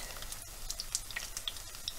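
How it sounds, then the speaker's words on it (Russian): Chicken fillet fritter batter frying in a pan, a steady close crackle and sizzle with scattered sharp pops of hot oil throughout. "Вот, начинаем процесс жарки. Значит, я вот одну вот такую ложку большую положила на сковородочку."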